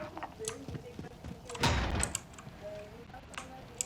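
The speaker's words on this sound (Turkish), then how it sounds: "Kapıyı sen mi açtın?" A door opens in the video game Call of Duty: Warzone, a brief broadband thud and scrape in the middle, heard alongside scattered game sounds and light chatter.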